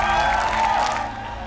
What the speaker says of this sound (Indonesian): penonton, tepuk tangan dulu untuk Yunita Mala.